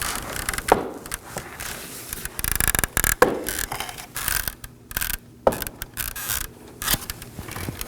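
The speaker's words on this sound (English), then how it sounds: "So I'm prying and then pulling the grill out." Plastic clips snap and click as a 2013-2019 Nissan Sentra front grille is pried loose and pulled out. The clip is a close series of sharp ratcheting cracks and rattling plastic with no talk.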